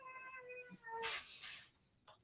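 A pet cat gives a few soft, drawn-out meows, then a faint breathy rustle, quiet and close indoors.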